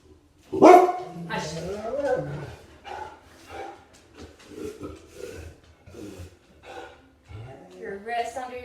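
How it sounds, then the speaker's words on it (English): Several dogs bark in short, loud bursts near the start, then a voice talks steadily over quieter yips and snorts during a home yoga session. "I don't think I've ever made a video where they haven't barked"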